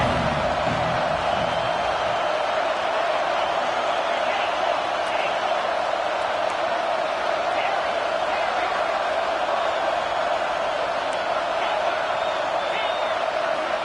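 Stadium crowd noise from a College Football 25 game, a dense steady roar that holds loud and constant throughout with faint cheers rising within it.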